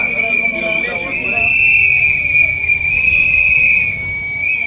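Whistles blown by political campaigners going door to door in a ward of Sivaganga, Tamil Nadu, sound as a sustained shrill tone that wavers slightly, with a crowd murmuring underneath.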